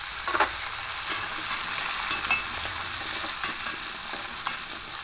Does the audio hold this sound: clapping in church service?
no